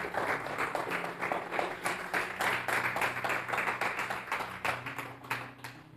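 A church congregation claps at a worship service in a dense burst of applause that fades toward the end, heard fairly faintly.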